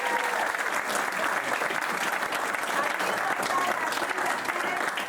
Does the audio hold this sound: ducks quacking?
no